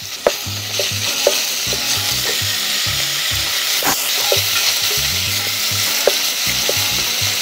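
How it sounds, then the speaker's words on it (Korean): Meat stir-frying in a pot as the first step of Korean seaweed soup, giving a loud, continuous close-up sizzle broken by repeated scraping and knocking from stirring, with no voices. "이 고기가 이제 모든 면이 흰색이 될 정도로 볶아주면 돼요."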